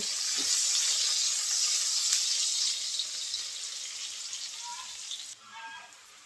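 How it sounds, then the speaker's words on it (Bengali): Small chopped onions fry in oil for a tomato egg masala, giving a loud, steady hiss and sizzle that softens and settles near the end. No one speaks. "ছোট ছোট পেঁয়াজগুলো দিয়ে দেব পেঁয়াজটা লাল করে ভেজে নেব"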